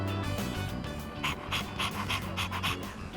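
Koromaru, a dog in the video game Persona 3 Reload, pants in quick repeated breathy bursts, close and fairly soft over a low background hum.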